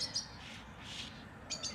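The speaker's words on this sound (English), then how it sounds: "Listening to the birds." Small birds chirp outdoors in the morning, a few short, bright high tweets at the start and end over a soft steady background of distant traffic, no talking.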